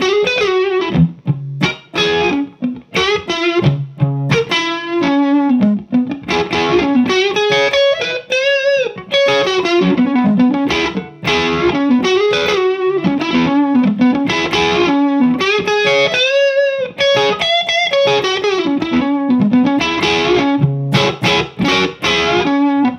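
Heavily distorted electric guitar through a Two-Rock tube amp plays a continuous riff of chords and single notes, loud and close, with a thick, saturated amp tone throughout.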